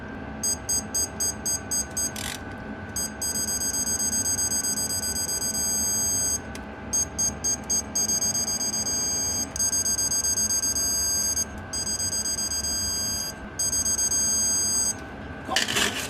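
A digital torque wrench tightens trailer wheel bearing nuts on a 1977 Bali tilt deck trailer, giving rapid bursts of high electronic beeps that repeat in clusters over a steady background hum, close and clear.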